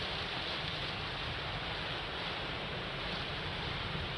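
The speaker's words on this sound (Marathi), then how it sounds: "मुसळधार पाऊस पडतोय" Heavy monsoon rain pours down in Igatpuri, Nashik district, as a dense, unbroken roar of broadband noise that stays loud and steady from start to end, with no voices.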